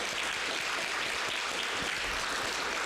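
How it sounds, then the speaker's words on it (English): A church congregation gives a big round of sustained applause, a dense even wash of many hands clapping throughout, moderately loud with no talk over it. "So we are going to give her a big round of applause too,"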